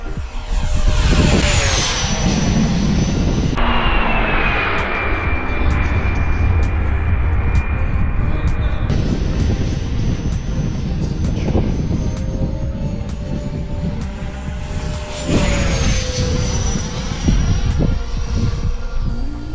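An RC airplane with a propeller engine makes a full-speed pass, its loud high whine rising and falling in pitch as it sweeps by, close and unbroken, with no voices over it.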